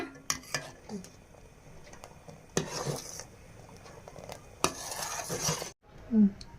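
A spoon stirs a boiling sweet dish in a pot on a home stove, with bursts of scraping and clinking against the metal between quieter bubbling, close and fairly loud, with no talk.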